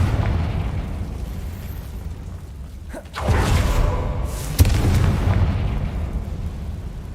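Confringo blasting spell explosions in Hogwarts Legacy, two loud booms a second or so apart, each with a sharp crack onset and a rumbling tail that fades slowly.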